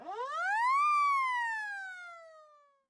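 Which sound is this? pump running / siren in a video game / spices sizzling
siren in a video game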